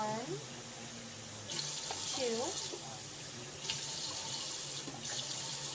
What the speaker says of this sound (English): Mixing the water.